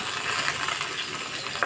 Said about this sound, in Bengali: এগুলো ভালোভাবে ভেজে দিয়ে দেব শুটকি 4টা